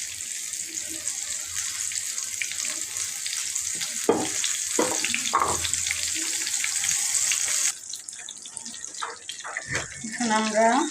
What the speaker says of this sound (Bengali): তো আমাদের এই চিকেন পিসটা ভাজা হয়ে গেছে।